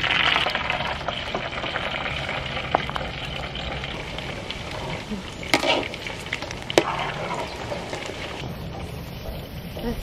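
Diced chicken breast deep-frying in hot oil for a second batch, a dense, steady sizzle and crackle close by, with a few clinks of a utensil against the wok.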